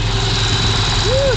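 Oshkosh fire truck engine idling, a steady low rumble heard from close by, with a brief rising whine partway through and people talking nearby over the drone.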